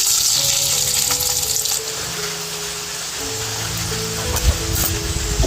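Garlic fries in hot oil in an iron kadhai, a loud steady sizzle close up with occasional faint clinks and pops.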